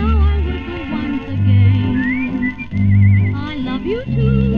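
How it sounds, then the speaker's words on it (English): A person whistles a lilting waltz refrain over a dance orchestra on an old 78 rpm shellac record, the melody gliding clearly above the band's steady accompaniment. "Hear me whistle this refrain."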